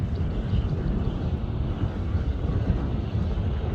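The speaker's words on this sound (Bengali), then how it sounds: "একটি বিমান নামতেছে, দেখুন সুন্দর একটি বিমান নামতেছে" A US-Bangla Airlines airliner comes in to land, heard as a steady low roar from outdoors mixed with gusty wind buffeting the microphone.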